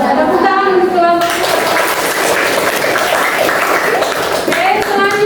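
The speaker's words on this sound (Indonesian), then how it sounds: "Tepuk tangan untuk kelompok." A classroom of students claps together for a student group during a lesson, a dense, steady patter of hands that stays loud throughout, with voices briefly heard at the start and end.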